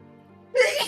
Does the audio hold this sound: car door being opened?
no